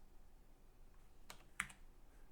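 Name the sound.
typing on computer keyboard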